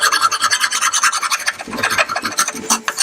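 A file rasps across wood on a bajo quinto guitar under construction, in quick repeated back-and-forth strokes. The scraping is close and fairly loud, with no voices.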